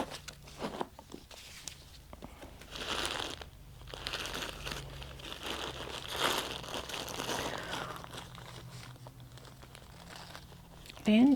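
Packaging crinkles and rustles in scattered bursts while a new Coach bag is unpacked, fairly quiet and close, with a person talking at times.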